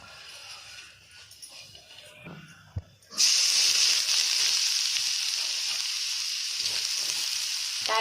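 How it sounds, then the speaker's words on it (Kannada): Grated coconut hits hot coconut oil in a pan midway, bursting into a loud, steady sizzle that holds to the end after a few quieter kitchen knocks. "ಇತ್ತೆ ತಾರ ಎಣ್ಣೆಕ್ಕೆ ಪಾಡ್ದು ಫ್ರೈ ಮಲ್ತಿಗೆ ತೊನು"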